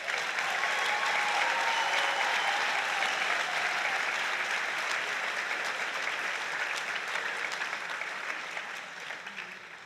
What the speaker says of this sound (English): Please give yourselves and each other a big round of applause.